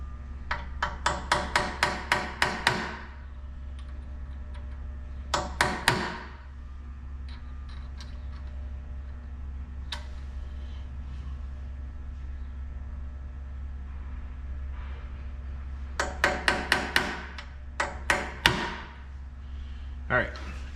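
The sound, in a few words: hammering a center punch into metal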